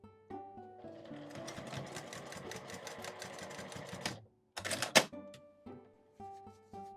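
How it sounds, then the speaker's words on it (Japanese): A sewing machine stitches the edge of a lined fabric mini pouch with a 5 mm seam allowance in a rapid mechanical rattle, stopping briefly, then a short burst and a few isolated stitches. "端を5ミリの縫い代で縫います。"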